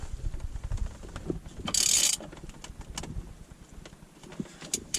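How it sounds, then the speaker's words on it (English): Ratchet tightening the steering wheel nut on a non-airbag SAAB 900 or 9000, heard as a few close, quick mechanical clicks and one short, brighter burst of ratcheting over quiet background noise. "When you start to feel it resist, go ahead with your ratchet."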